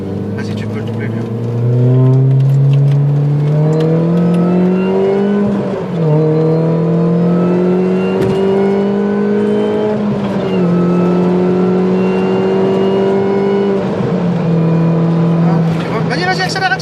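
A car accelerates hard on a race track during a driving lesson, its engine climbing steadily in pitch through several gear changes, loud and close from inside the cabin, with an instructor talking over it.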